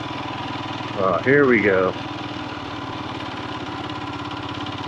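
A Royal Enfield Himalayan 411 motorcycle engine drones steadily at low revs while riding up a pine-forest trail, with a short voice heard briefly over the engine.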